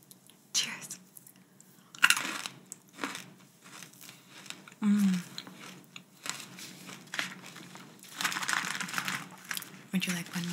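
Crunchy freeze-dried Skittles candy bitten and chewed close up in a quiet candy shop setting, with irregular crisp crackles and crunches spread across the moment, mixed with soft whispering.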